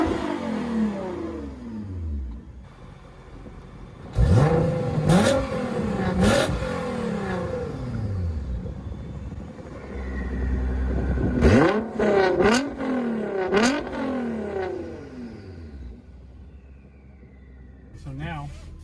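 Aggressive revving from a Nissan R35 GT-R fitted with a Valvetronic Fi exhaust, valves open, with loud rising and falling bursts over a running engine and speech throughout.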